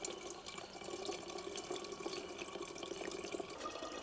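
Water gushes steadily from a hand pump at a cemetery visit, a continuous faint splashing stream with light dripping textures and no talking.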